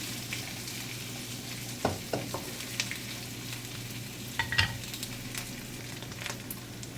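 Tempura being mixed into stir-fried cabbage in hot oil gives a steady low sizzle with a few soft scraping clacks of a utensil against the pan, fairly quiet and with no talking.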